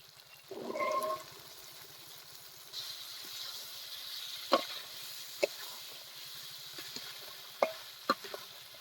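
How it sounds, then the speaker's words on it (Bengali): Soaked kabuli chickpeas sauté with spices and a little water in a pan: a soft, faint sizzle under occasional sharp spoon scrapes and clinks against the metal, with one louder stirring burst early on. "কাবেরী ছোলার সাথে মশলাগুলো হালকা হালকা কষিয়ে নেব"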